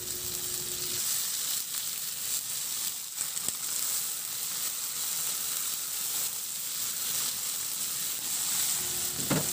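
Chopped onions and tomatoes sizzle steadily in a hot pan while being stirred, an even, close frying hiss with faint scraping that runs the whole time, no voices.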